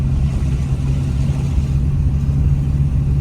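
A small ZAZ Zaporozhets car engine drones steadily from inside the cabin while driving, a constant low rumble with no speech over it.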